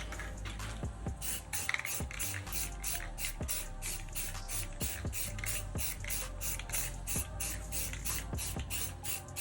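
Repeated short hissing bursts from a spray gun painting a car at home, in a steady rhythm, over a constant low mechanical hum, moderately close.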